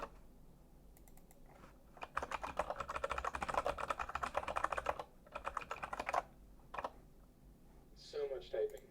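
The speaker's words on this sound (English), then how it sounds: "So much typing." Typing on a computer keyboard during a live coding session: bursts of rapid, close key clicks with brief pauses, and someone talking quietly at times.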